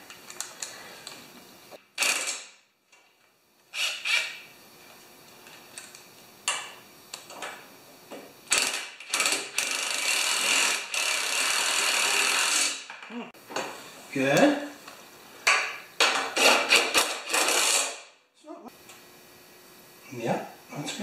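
Ratchet tightening bolts on a John Deere TRS 24 snowblower, heard as bursts of rapid clicking that start and stop irregularly, close and moderately loud, with brief pauses between runs.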